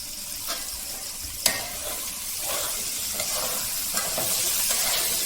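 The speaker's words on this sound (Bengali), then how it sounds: "এখন আমি পেঁয়াজ মরিচগুলো এখন একটু লাল করে নেব" Chopped onions and chilies sizzle steadily in hot oil, with a spoon stirring and scraping the pan in repeated strokes, loud and close.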